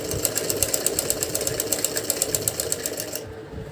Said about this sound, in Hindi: और इसी के ऊपर हम सिलाई डाल देंगे, हल्की हल्की सी पलट के।